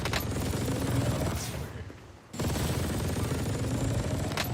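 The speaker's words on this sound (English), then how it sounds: "was somebody just shooting a laser gun?" Rapid game gunfire from a laser gun in Call of Duty Warzone, a dense continuous burst that drops away briefly for about a second, then resumes just as loud.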